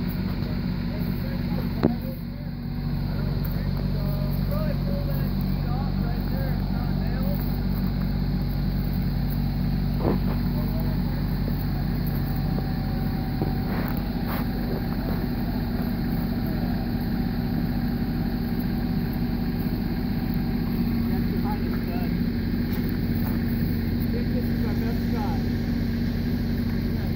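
A dump truck backs into position while filling a trench, its heavy diesel engine rumbling steadily and nearby for the whole stretch, with people talking over it.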